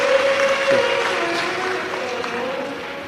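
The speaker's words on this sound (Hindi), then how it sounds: "बाबा से जोरदार ताली बजाकर साधुवाद।" An audience at a live Shiv Mahapuran katha in Mumbai applauds in a steady, sustained wash of clapping, with a faint held tone running underneath.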